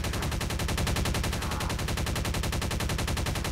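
Rapid automatic gunfire from a military shooter video game, a loud continuous stream of evenly spaced shots hammering on without pause.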